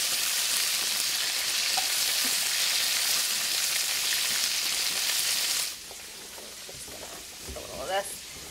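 Asparagus sizzles steadily and loudly in a hot pan for several seconds, then the frying drops to a softer crackle with a few faint clinks.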